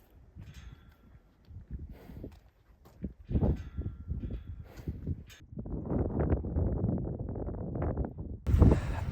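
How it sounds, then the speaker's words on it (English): Gusty wind roars and buffets outdoors in snowfall, growing louder and steadier after a few seconds, with rustling and thumping mixed in. "Well, it's windy and it's snowing."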